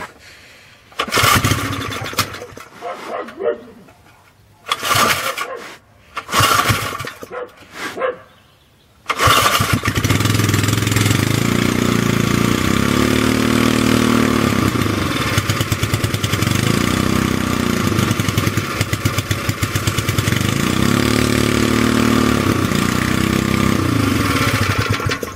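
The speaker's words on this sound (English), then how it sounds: "is a very old and noisy flathead engine" A flathead Honda GX200 clone engine, old and noisy, coughs through several failed pull-start attempts, then catches and runs loudly and steadily with a rough, rhythmic, pulsing idle close by.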